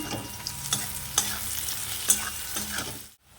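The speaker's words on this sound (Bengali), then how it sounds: "পেঁয়াজটা এরকম ভাজা হয়ে গেছে" Quiet, steady sizzling of onions frying in oil with occasional stirring clicks, close by, before cutting off abruptly at the end.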